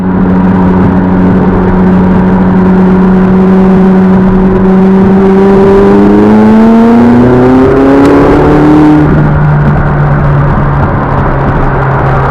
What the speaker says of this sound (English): when you're in track mode, you'll hear the kind of the aggressive downshifts as well